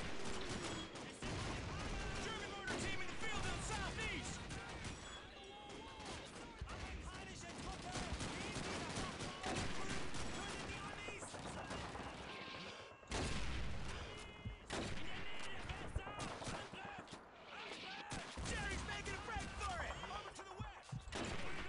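Rapid bursts of video game gunfire crack over a dense bed of game sound and music, while a streamer's voice talks over the action.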